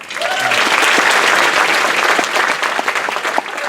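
A graduation ceremony audience applauds the students, loud sustained clapping filling the hall from the start, thinning slightly with a few sharper individual claps near the end.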